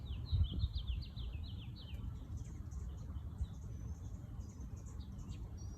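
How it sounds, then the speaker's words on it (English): Faint, high bird chirps and twittering scattered over a steady low background rumble, mostly thick in the first two seconds, with a few distant calls afterward. "It's so quiet, you can only hear the birds."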